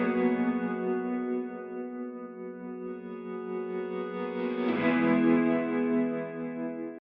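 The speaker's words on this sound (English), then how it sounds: "I think that added little guitar reverse reverb really makes a nice sound there." Layered acoustic guitars from an ambient indie production, processed with reverse reverb, sustain a dense chord for about seven seconds, swelling with a soft whoosh near the end before cutting off abruptly.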